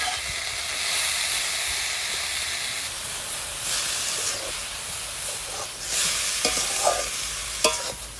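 Radish greens frying in hot oil, a loud continuous sizzle and hiss with steam, broken by the scrape and clatter of stirring, close up.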